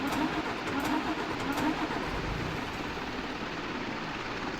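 A TATA truck engine in Indian Truck Simulator, a steady mid-pitched idle and revving drone that holds evenly for several seconds with a few brief clicks near the start.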